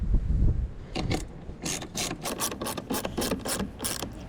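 A hand ratchet clicks in quick, uneven bursts while retightening the negative terminal clamp on a car battery, close and fairly quiet, with no voices.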